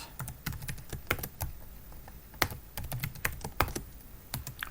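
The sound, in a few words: typing a command on a computer keyboard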